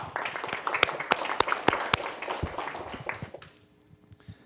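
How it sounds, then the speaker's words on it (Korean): An audience at a policy forum claps, with scattered sharp individual claps building into applause that thins out and fades near the end. "큰 박수 부탁드리겠습니다"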